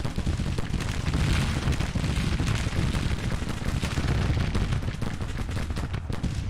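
Cannon fire from a Civil War battle in the Grand Tactician strategy game: dense, continuous rumbling volleys and booms layered without pause, loud and steady throughout with no talking.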